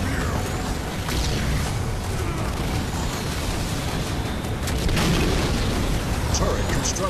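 Battlefield explosions and vehicle fire in Halo Wars 2 roll on as a continuous low rumble of booms and bursts, with a louder blast near the middle and scattered crackling pops throughout.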